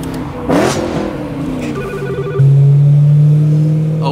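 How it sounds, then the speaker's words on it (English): BMW E92 M3 at a car rally gathering, its engine revving loudly nearby with a strong sustained rise after a brief burst, while a phone ringtone chirps alongside. "Oh my God, this thing sounds so good."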